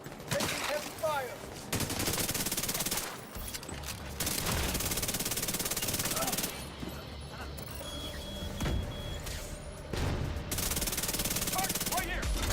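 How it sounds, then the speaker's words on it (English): Sustained heavy automatic gunfire in The Division 2, dense bursts that pause briefly and then resume, loud and close, with shooting and other game noise layered together. "Taking heavy fire."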